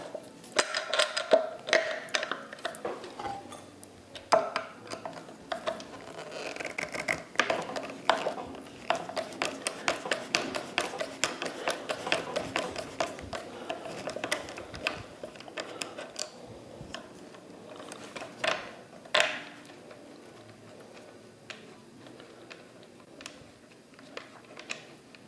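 Irregular ratcheting clicks and metallic ticks from a 7/16 wrench working on a Seisco 28 kW tankless water heater, coming in quick close bursts that taper off toward the end.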